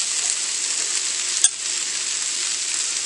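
Cabbage and green pepper fry in a skillet with garlic, making a loud, constant, close sizzle with one brief clunk of a stir partway through.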